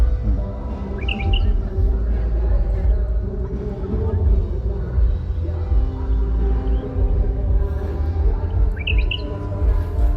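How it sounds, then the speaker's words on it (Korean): A few brief, high bird chirps come through at the start and near the end over a loud, steady outdoor rumble. "새소리도 나고"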